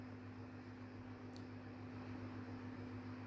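An electric oven set to 200 degrees hums steadily while a vanilla sponge cake bakes. The drone is faint and continuous, with a strong low tone and a soft fan-like hiss.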